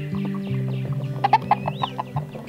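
Hens cluck and murmur close by in a steady run of short calls, with a mixed breed rooster's brief squawk near the end.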